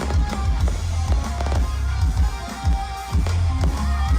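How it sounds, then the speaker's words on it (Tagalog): Fireworks and firecrackers go off during a set at the outdoor Aurora Music Festival in Clark, a run of repeated booming pops and crackles mixed into loud concert music and crowd noise. "May paputok talaga."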